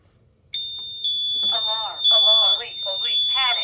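A security system's panic alarm sounds during a system test. It is a steady, piercing electronic tone that starts abruptly after a brief quiet moment and carries on loudly while people talk over it.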